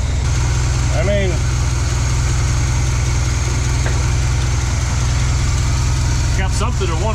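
A vintage Chevy C10 pickup that sat unused for 33 years idles steadily and loudly close by, its low rumble continuous throughout, with brief bits of speech over it.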